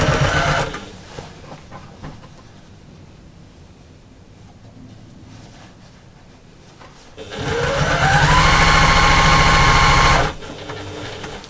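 A sewing machine with a walking foot stitches a half-inch seam on a slouchy bag, starting with a short burst, then quiet handling, then a loud, steady motor whir for several seconds before stopping.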